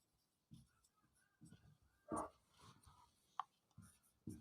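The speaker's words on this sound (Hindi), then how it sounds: "जैसे हम लिखते हैं एन" A pen writes on paper during an English grammar lesson, giving soft, irregular scratches with a couple of sharper clicks, close but faint, with no talking.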